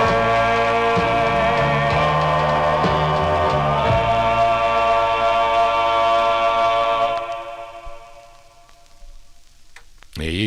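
A 1950s doo-wop vocal group record plays from vinyl with harmonized voices over a steady backing, then the final chord rings out and fades, followed by a soft click.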